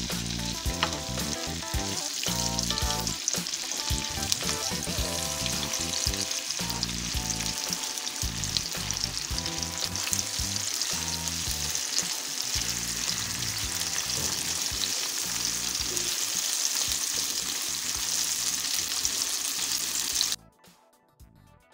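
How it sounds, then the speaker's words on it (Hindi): Okra fries in hot oil for bhindi masala, a dense, steady sizzle and crackle with occasional stirring, close and continuous until it cuts off near the end. "भिंडियों को ऑयल में फ्राई करेंगे।"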